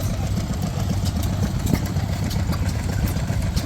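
A vintage stationary engine chugs steadily at a vintage machinery rally in Kingaroy, its rapid low putter continuous and fairly close amid outdoor background noise.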